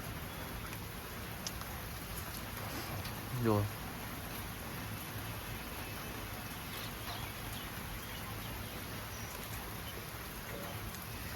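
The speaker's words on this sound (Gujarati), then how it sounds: "વરસાદ ચાલુ થઈ ગયું છે" Steady rain falling outdoors, a dense even hiss holding for the whole stretch, with a person speaking briefly over it.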